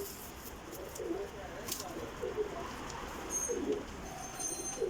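Domestic desi pigeons cooing in soft, repeated low calls, fairly faint against steady background hiss, with a brief clatter partway through and a little distant noise behind.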